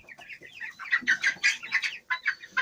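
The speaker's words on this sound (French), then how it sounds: "Donc voilà, une magnifique poule." A Blue Orpington hen clucks close by in a run of quick, bright, chattering calls with short gaps, loud and alone without any talk.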